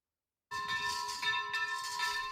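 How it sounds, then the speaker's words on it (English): Church bells in the ancient city of Tyre, Lebanon, ring out on Christmas Day after a moment of silence, their clanging tones overlapping and sustained, with a second bell strike adding bright shimmer midway. "A priest in Lebanon rang the church bells on Christmas Day in the ancient city of Tyre."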